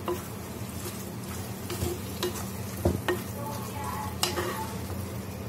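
Cleaned squid fries in a pan over medium heat while being stirred, giving a low, even sizzle with occasional spatula scrapes and a soft clank against the pan.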